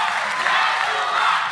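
Studio audience at a grand final singing competition applauds warmly after a performance, a dense, steady wash of clapping and crowd noise throughout.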